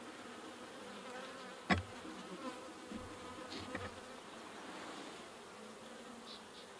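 Honey bees at a horizontal hive, droning in a faint, steady buzz close by, with a sharp knock and a few soft taps from handling the hive.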